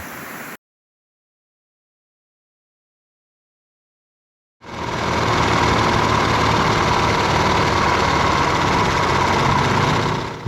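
Motorbike engine idles steadily and loudly close by after a brief cut and a few seconds of silence, a continuous even drone with no talk.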